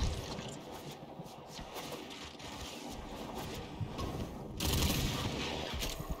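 Rapid, overlapping gunfire from the shooter video game Warframe crackles continuously in dense bursts, loud and close, with a heavier flurry toward the end.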